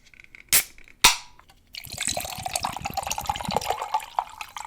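Coconut water poured into a glass: two sharp clicks or taps first, then a continuous gurgling, bubbling pour with small splashes that runs to the end, close and moderately loud, with no talking.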